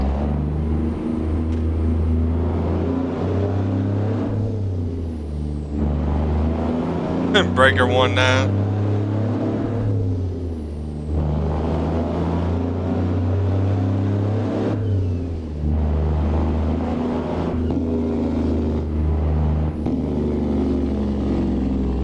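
A Peterbilt 368 truck engine in American Truck Simulator drones steadily and loudly on a main road, a low continuous rumble with slight swells, while a voice talks over it.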